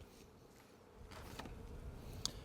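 Honey bees buzzing faintly around a hive box with a vent box on top, a soft, continuous hum with a few slightly closer passes and one brief sharp tick.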